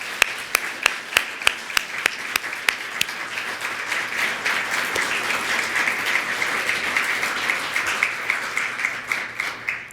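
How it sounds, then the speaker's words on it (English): Conference audience at an annual meeting breaking into sustained applause, starting with a few sharp claps and swelling into a dense, even wash of clapping that continues to the end. "Let's have a round of applause for these great people."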